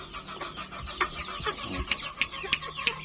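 Chickens clucking on a farm while pecking at feed, with close, repeated short clucks and chirpy calls in an irregular rhythm over a low background murmur.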